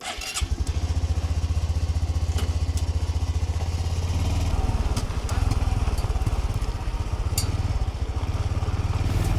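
A Honda motorcycle runs on desert trails, its engine chugging in a loud, steady, rapid rhythm close by, with revs rising slightly midway and no talk.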